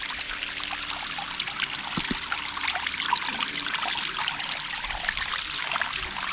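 Cold spring water pours steadily from a black-stone cow-mouth spout into a stone channel at Keshavraj Temple in Dapoli, Konkan, making a continuous close splashing trickle with no voices.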